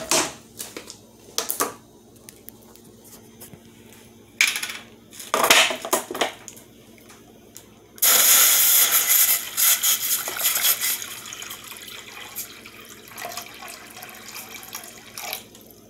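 Spring water pours steadily into a pot for cooking Kamut pasta, after a few sharp kitchen clatters and knocks, with the rushing flow loud and continuous through the second half.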